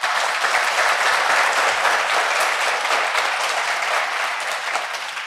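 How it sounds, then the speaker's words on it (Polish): An audience at the Jarocin festival claps for the year's winners, a steady, even round of applause filling the whole stretch without letting up. "Kto jeszcze nie bił braw, to pogratulujcie."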